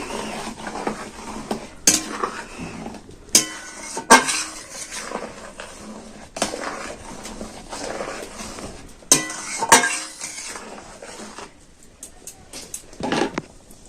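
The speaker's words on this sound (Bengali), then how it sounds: "আমি সুজি আর সাবু যে ভেজে রেখেছিলাম সেটা তুলে দিচ্ছি আবার এটাকে আমি ভালো করে নেড়ে ছেড়ে নিচ্ছি" Fried semolina and sago stirred in a pan, a spoon scraping and clinking against the metal in repeated strokes with soft sizzling in between, close and clear, without speech.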